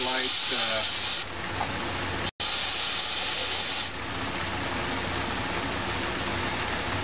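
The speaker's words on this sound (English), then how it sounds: "really light spraying on that." An airbrush lays paint lightly onto a T-shirt through a stencil, giving a steady close airy hiss that runs for a few seconds, cuts out briefly, then continues more softly, with a voice talking over it at the start.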